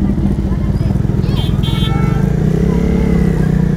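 Sport motorcycles idle together, a Kawasaki ZX-10R, a KTM 390 and a Bajaj Dominar, with a loud, steady rumbling throb close by and someone talking over it.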